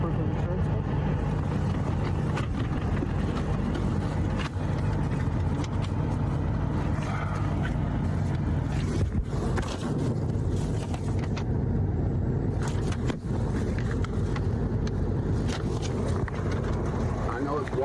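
Cars pass by on a road in a steady, loud traffic rumble with a few swelling whooshes, while people talk throughout over the noise.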